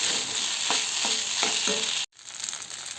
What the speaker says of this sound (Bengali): দিয়ে বেশ ভালো করে নাড়াছাড়া করে নেব এটাকে